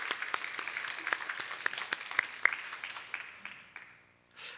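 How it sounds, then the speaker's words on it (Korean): A church congregation applauds, a dense patter of many hands clapping at moderate distance that gradually thins and fades out after about four seconds. "우리 그 모든 분들에게 우리 박수로 감사드리면 참 좋겠습니다"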